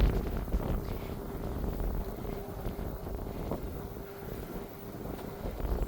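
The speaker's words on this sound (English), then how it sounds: "It's a little bit windy, so I'm hoping you can pick up my voice." Low, rumbling wind buffets the microphone continuously on a hilltop in Barnsley, with a faint steady hum underneath and no talking.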